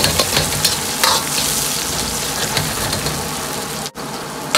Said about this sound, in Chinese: 接着加入控干水分的香料，保持中火，继续炒出香味